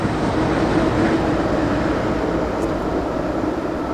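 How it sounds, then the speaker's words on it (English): Steady, loud rumbling roar of a train rolling past nearby in West Virginia, a continuous heavy drone with rattling wheel noise and no pauses. "Train going by right there."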